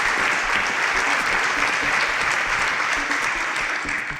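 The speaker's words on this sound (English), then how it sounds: "Round of applause for John." Loud, dense applause for a contestant on a televised student quiz show, a steady roar of clapping from a studio audience lasting several seconds without a break.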